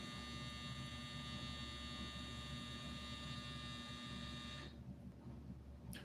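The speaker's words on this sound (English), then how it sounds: "that's my dryer going off" A clothes dryer's buzzer sounds at home as a steady, loud tonal drone with a constant hum beneath, then cuts off abruptly near the end, leaving only faint background noise.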